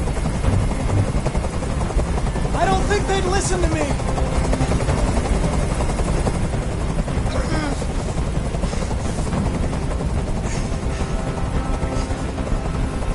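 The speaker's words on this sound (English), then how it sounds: "Tell that helicopter to get out of here." A helicopter in the video game Detroit gives a steady, loud rotor drone that fills the whole scene, while someone speaks over it and brief tonal game sounds rise and fall.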